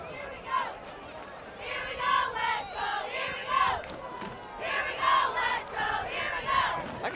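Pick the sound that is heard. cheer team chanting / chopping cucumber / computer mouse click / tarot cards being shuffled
cheer team chanting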